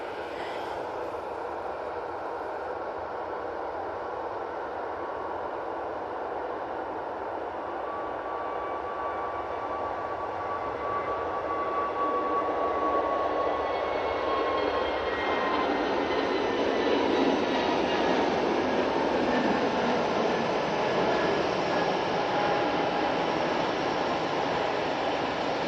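An easyJet airliner rolls down the runway for takeoff at Manchester Airport: a distant, low rumble with a faint whine grows louder and fuller over the second half as the jet accelerates.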